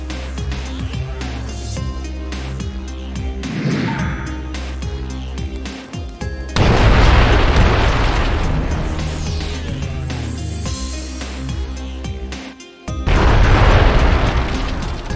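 Heavy explosions from artillery bombardment in the video game Lambda Wars boom loudly and repeatedly, with dense rumbling bursts near the start and again toward the end over constant battle noise.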